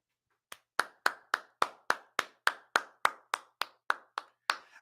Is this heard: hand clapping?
yes